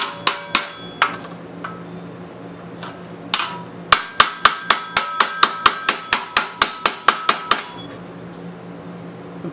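Hammer beating a dent out of the metal utility box of a 1940s Harley Servicar: a few scattered ringing strikes, then a rapid run of about fifteen sharp, close, metallic blows.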